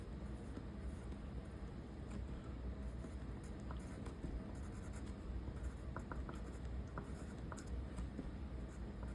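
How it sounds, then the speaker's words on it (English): Pen scratching steadily across paper while a crime scene sketch is written on, continuous soft strokes under a loud rumble of passing road traffic, no talking. "you can also write the address"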